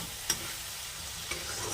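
Soft stirring in a pan of soybean and potato curry with beaten yogurt, faint low sizzling underneath and two small spoon knocks against the pan.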